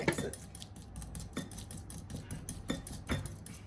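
Utensil clinking and tapping against a dish while mixing a dressing of brown sugar, lemon, salt and pepper, a quick irregular run of light metallic taps, close and fairly quiet, without talk.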